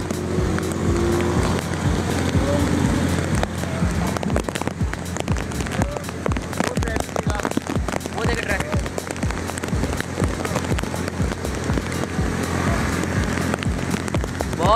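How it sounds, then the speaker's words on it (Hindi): Heavy rain pours down in a steady, dense roar over a city street in Karachi, Pakistan, with traffic jammed and someone talking over the downpour. "बारिश की शिद्दत बहुत है, बारिश है बहुत तेज।"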